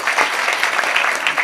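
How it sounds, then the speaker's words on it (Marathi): Audience applause at a Warkari kirtan, a steady wash of many hands clapping together throughout, close and continuous with no speech over it. "जरा त्याच्यासाठी एकदा टाळ्या वाजवा."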